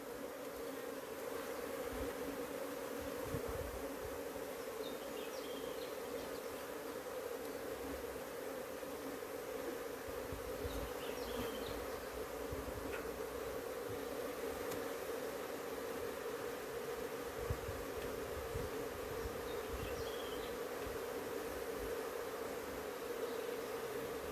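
Honey bees buzz continuously around an open hive during an inspection of brood frames, a steady, dense drone that holds evenly throughout with no talk.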